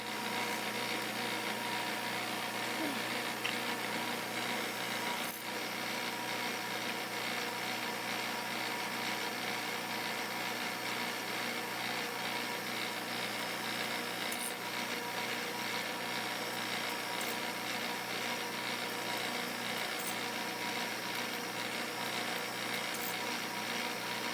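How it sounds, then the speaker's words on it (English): A CNC machine drills a series of 3/16-inch holes with a steady, dense whirring drone for a long stretch, with a few faint clicks and ticks breaking through the constant hum. "I wrote a program to drill a series of 3/16 holes."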